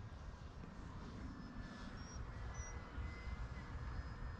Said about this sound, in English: It's because it's an acrobatic plane.